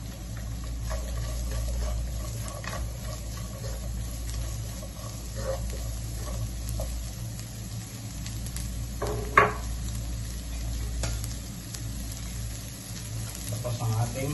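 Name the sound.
onions frying in a pan for carbonara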